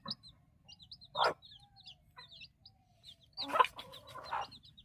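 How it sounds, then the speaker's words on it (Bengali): Five baby chicks of a naked-neck breed give faint, high cheeps near a hen, whose soft, low clucks come in a few short bursts in a quiet setting. "এখন মাশাআল্লাহ 5টা মুরগির বাচ্চা"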